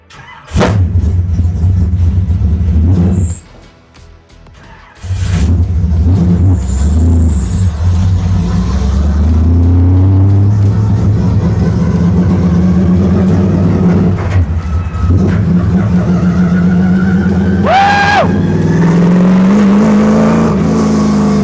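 A NASCAR race car engine with a stuck throttle roars loud and close, briefly dropping off before surging back into a sustained high-revving drone with wavering pitch and a rising whine near the end; no talking.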